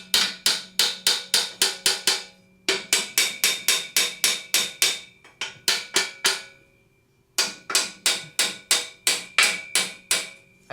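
Metal hammering on a steel frame being forced into place for a bench shear stand: loud, ringing blows in quick bursts of about five to eight, separated by short pauses.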